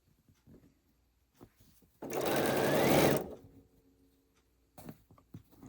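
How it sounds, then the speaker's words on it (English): A sewing machine runs in one steady burst of about a second, stitching quilt fabric pieces together in a quilting block project, between quiet rustling and faint handling noises. "And stitching all the way down."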